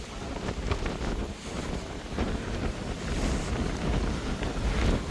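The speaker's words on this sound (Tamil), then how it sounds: "கடலை பாருங்க எந்த அளவுக்கு ஆக்ரோஷமா இருக்குன்னு சொல்லி" Rough, aggressive sea waves crash along the coast under strong wind, a continuous loud roar of surf and gusting buffeting the microphone throughout.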